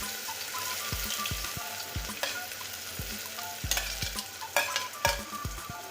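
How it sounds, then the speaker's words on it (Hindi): Finely chopped onion dropped into hot oil with fried whole spices, sizzling steadily and close, with a spoon stirring and scraping the pan in irregular bursts and no voices. "अब मैं डाल देता हूँ बारीक कटी हुई प्याज"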